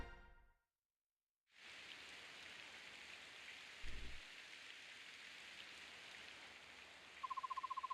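Calm rain falls steadily in the Fire Emblem video game after a brief silence, a soft even wash of hiss with a short low thump and a faint repeating tone near the end.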